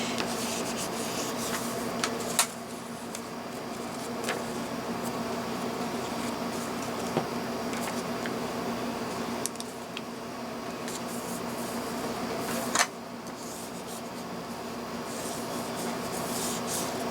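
A burnishing tool rubs steadily over paper pieces for a baby mini album, giving a soft continuous scraping hiss with a few faint taps, close by and with no talking.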